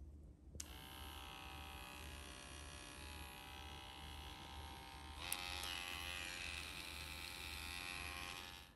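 A Consevisen baby electric nail file runs with a steady, fairly quiet motor whine, starting with a click and shifting to a slightly higher setting partway through, close and alone.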